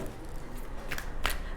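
Tarot cards being shuffled and pulled from a deck during a reading, soft close riffling with two sharper snaps, no talking.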